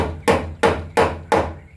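Hammer driving a nail in a barn, four sharp strikes at a steady rhythm about a third of a second apart, each ringing briefly before the next, close and loud with no voices.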